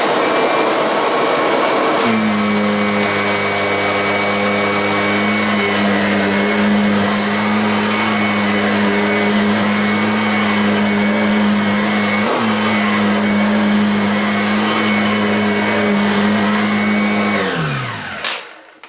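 A Kirby G7 upright vacuum cleaner runs at close range with its tech drive on. It makes a loud, steady motor whine with a constant tonal hum for about fifteen seconds, then spins down at the end.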